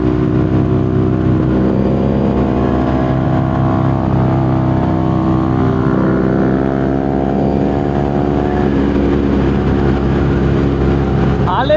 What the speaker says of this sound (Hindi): एंड बाइक बहुत ही अच्छी चल रही है, स्मूथ चल रही है।